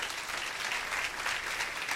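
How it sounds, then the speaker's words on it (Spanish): A Spanish-speaking church congregation claps together in a brief, steady burst of applause, moderately loud and continuous throughout. "Denle un aplauso al Señor"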